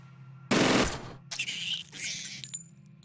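An auto-shot burst of gunfire in the Stellar Tactics video game opens with a loud, dense blast, followed by rattling, clattering shot sounds and metallic jingles fading out.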